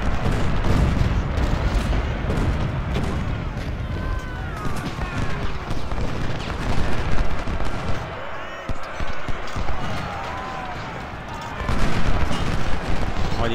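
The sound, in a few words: cannon fire in a video game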